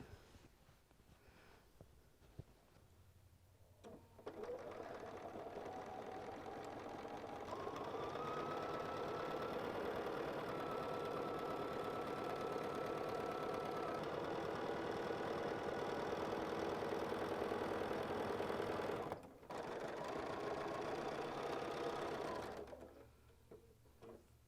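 Sewing machine stitching a quilt border in a quilting lesson: a steady, close motor whir runs for most of the stretch, with a brief stop and restart near the end and no talk.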